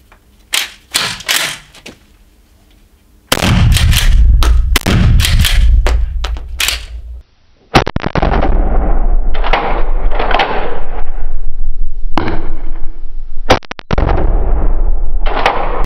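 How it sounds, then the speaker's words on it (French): Two pump-action shotgun shots fired at a target 15 metres away, each a loud, sharp blast a few seconds apart, followed by mechanical clatter and rustling. "j'ai tiré donc deux cartouches à la suite"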